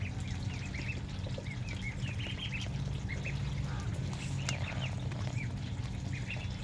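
Ducklings raised for meat quacking in a pen, a steady stream of small overlapping calls over a constant low background hum, close and moderately loud, with no speech.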